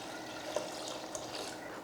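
Water pours steadily into a pot of lentils with onions, tomato and turmeric, a soft and faint continuous splashing wash lasting a couple of seconds with no voices.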